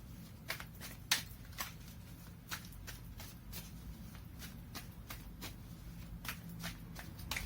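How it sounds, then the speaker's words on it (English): Tarot cards shuffled by hand at close range, a run of crisp riffling slaps and flicks in an irregular rhythm over a low steady background hum, with no talking. "Let me pull up some cards here from the universe."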